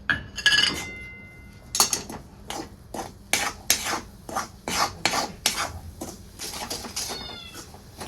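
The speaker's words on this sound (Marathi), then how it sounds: "मी आता ह्यात पिठी साखर घालून घेते गरम आहे तोपर्यंत पिठी साखर आपल्याला हेच मिक्स करायचे" Powdered sugar being stirred into hot modak filling in a pan, giving repeated scraping, rasping strokes of a spoon against the pan in an irregular rhythm, close and fairly clear, with no talking.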